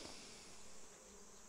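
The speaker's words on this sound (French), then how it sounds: "les petites abeilles qui œuvrent dans les lavandes. Potentiellement, vous devez les entendre, ça fait un petit bourdonnement qui est assez incroyable" Honeybees buzz steadily among lavender plants outdoors, a continuous soft hum with no talking, faint yet filling the whole moment.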